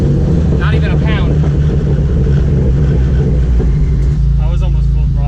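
A Chevrolet Cobalt SS fitted with a 6262 turbo, driven at nearly full throttle: a loud, steady, low engine drone fills the cabin while people talk over it.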